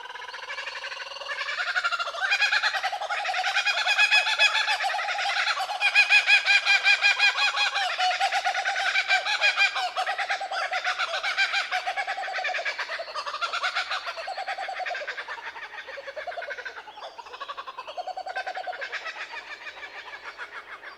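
Kookaburra, the Australian bush bird, calling in a long loud raucous laughing chorus of rising and falling cackles that runs continuously for about twenty seconds, close and without speech.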